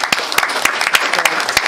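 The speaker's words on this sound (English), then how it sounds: "So a round of applause for them." An audience at a school district meeting applauds the boys baseball team, a dense patter of many hands with sharper individual claps popping out, steady and close for the whole stretch.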